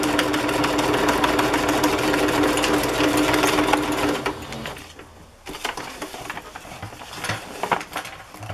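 A sewing machine straight-stitching across a sequin fabric pocket runs in a loud, fast, steady mechanical whir for about four seconds, then stops, leaving quieter handling clicks and rustles.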